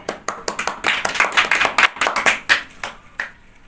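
Enthusiastic audience applause erupts after a banknote magic trick at a live magic show, a dense run of sharp hand claps that swells, then thins out toward the end, with no talking over it.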